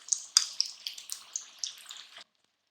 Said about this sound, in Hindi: गोल्डन पक चुके हैं, फ्राई हो चुके हैं